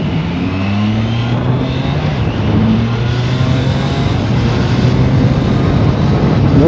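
Triumph Trident 660 three-cylinder motorcycle accelerating hard, a loud, steady engine drone with rising harmonic pitch sweeps across nearly seven seconds, heard close with no talking.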